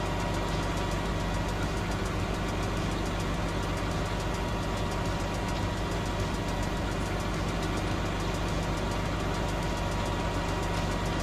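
A tractor engine idles in Farming Simulator 19, a loud, steady, unbroken mechanical drone with no talk over it.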